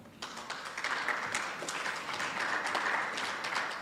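An audience claps steadily through the whole stretch at an education and training seminar in the Northern Cape, a moderate, even patter of many hands heard from within the hall.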